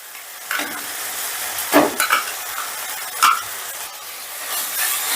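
Chicken mince goes into spice masala frying in oil, a close sizzling hiss broken by a few sharp scraping stir strokes and clatters against the pan.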